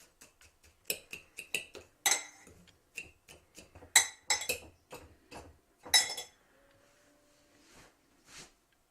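A coffee spice coating for lamb chops being mixed in a bowl, with a string of light clicks and scrapes of a utensil against the bowl, irregular and close, then quieter near the end.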